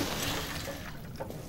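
Fuel sloshes and trickles from a canister into a generator in the survival horror game Amnesia: The Bunker, a steady liquid pour that rises slightly toward the end and is heard alone.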